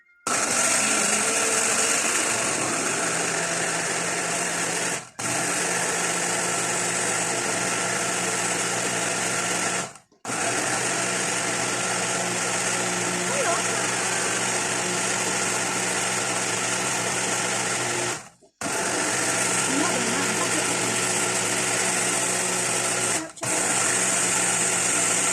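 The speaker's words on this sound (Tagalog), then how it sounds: "Ilalagay na natin sa ating magic blender na talagang very useful gamitin at very easy to use." An electric blender runs at high speed making fruit juice for an immune booster drink, a loud, steady whirring motor sustained for long stretches with brief stops between runs.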